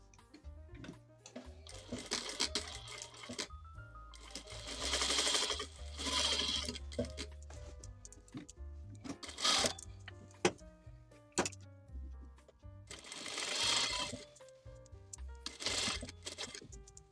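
Sewing machine stitching a seam allowance in rapid mechanical bursts, with pauses and small clicks and handling noises between runs, close and fairly quiet.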